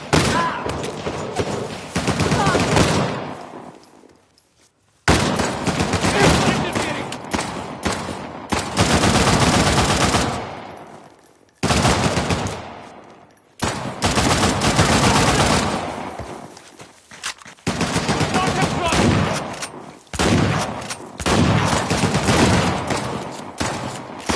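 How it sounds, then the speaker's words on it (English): Shotgun blasts and rapid gunfire from Uncharted The Lost Legacy come in loud, sustained volleys, separated by a few brief near-silent gaps. "Shotgun!"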